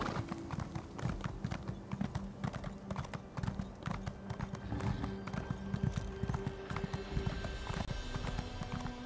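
Rapid horse hoofbeats from The Elder Scrolls Online video game clatter continuously in a galloping rhythm over a steady low background hum, loud and close throughout.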